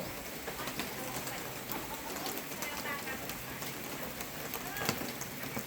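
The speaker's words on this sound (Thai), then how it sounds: "ฝนตกหนักมาก" Heavy rain pours steadily at a Pumpkin Art Town outdoor family attraction in Nonthaburi, a dense continuous hiss with faint patter, with people talking quietly beneath it.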